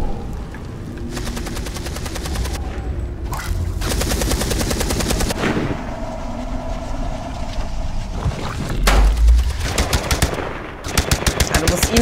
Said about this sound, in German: Der schießt auf den Jungen immer noch.